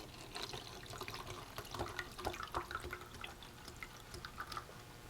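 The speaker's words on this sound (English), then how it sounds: "As we pour water onto the wheels, watch what happens." Water poured onto a small model water wheel, making a steady splashing, dripping trickle with scattered droplet taps throughout, fairly quiet and close, with no voices.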